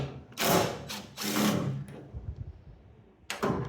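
A power driver backs rusted T40 Torx screws out of the tailgate latch on a 1994 Chevy K1500, giving two or three short whirring bursts with pauses and a faint metallic click, close up.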